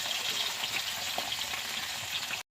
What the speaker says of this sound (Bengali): চলো মাছটা ভেজে নিচ্ছি।